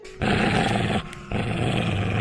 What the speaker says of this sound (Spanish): Eso, gruñendo profundamente.